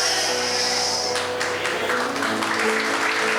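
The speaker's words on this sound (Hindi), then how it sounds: "ताली बजाना है तो अच्छे से बजाओ।" Congregation clapping during a Sunday church sermon, a burst of applause starting partway through over a steady background hum, fairly loud and sustained to the end.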